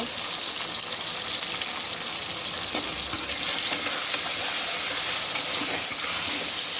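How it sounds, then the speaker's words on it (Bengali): Steady frying sizzle from a pan on the stove, food browning until reddish, with faint stirring scrapes and a little water noise in a home kitchen, continuous and close with no talk. "একটু পুরো লাল লাল করে ভেজে নেব"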